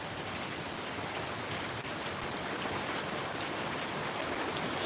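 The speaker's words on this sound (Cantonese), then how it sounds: "而家好大雨啊，啲雨水係飄到淋到我成身濕晒" Heavy rain falling on a Hong Kong street, a dense, even hiss of downpour that stays constant throughout with no voices.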